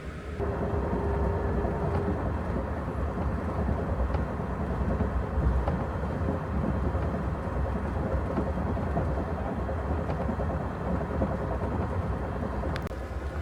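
A passenger train rolls through snowy Indiana, heard from inside as a steady, close rumble and rattle of wheels on track that continues without pause and without voices.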